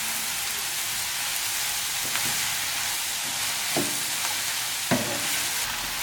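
Curry leaves dropped into a hot pan for a Kerala-style country chicken curry crackle in a steady, dense sizzle, with a few light taps of a utensil against the pan.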